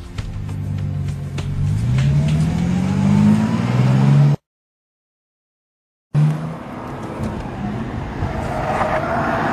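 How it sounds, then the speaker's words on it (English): A Bentley Continental GT Supersports revs hard on a lap of the Nurburgring, its engine climbing through gears in loud rising sweeps, broken by a short silent gap before the roar resumes. "driving this new extreme Bentley around this phenomenal track"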